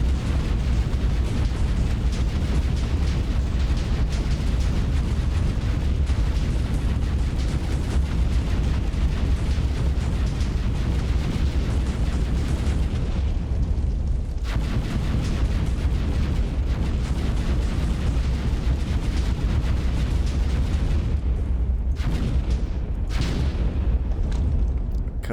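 A huge, continuous roar of blasts from an overpowered gun mod weapon in Minecraft as it levels a mountain, loud and dense throughout with a few sharp bursts near the end.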